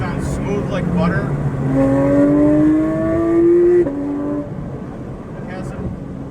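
Porsche 992 GT3 flat-six with a Dundon titanium-muffler exhaust, revving loud and close with a high, rising wail that climbs through gears, then drops back to a lower idle-like drone.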